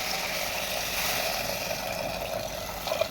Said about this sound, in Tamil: கொஞ்சம் போல் தண்ணி இதில் ஆட் பண்ணிக்கிறேன்